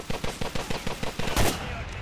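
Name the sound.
sniper rifle gunfire in GTA The Ballad of Gay Tony video game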